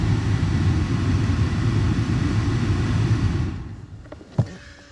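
A newly replaced blower motor fan in an Audi A4 B8 runs with a steady, fairly loud whooshing hum, then cuts off and leaves near silence broken by a single click.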